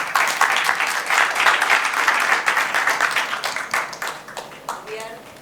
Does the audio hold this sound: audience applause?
yes